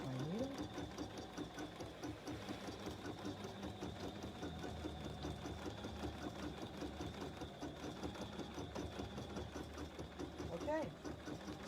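A BERNINA sewing machine stitches an embroidered garden flag, its motor humming steadily with a fast, continuous rhythmic needle chatter throughout, close and moderately loud, with some talking over it.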